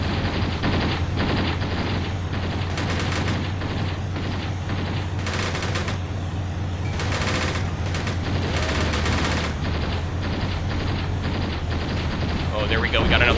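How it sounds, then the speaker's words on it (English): Gunfire from the Graviteam Tactics war game, where MPLA units fight in the OP Hooper campaign: dense, continuous bursts of shots and sharp cracks over a low rumble, with no speech. "Keep on shooting, Font"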